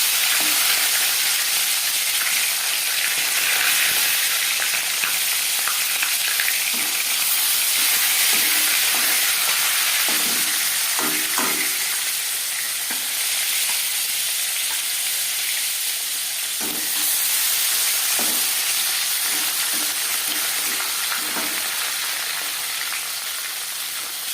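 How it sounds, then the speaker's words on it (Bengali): Continuous hissing sizzle of marinated tilapia fish frying in hot oil, loud and steady throughout, with occasional soft scraping and stirring sounds. "এবার দিয়ে দেব ম্যারিনেট করে রাখা মাছ"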